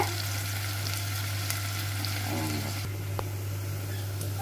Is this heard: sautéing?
yes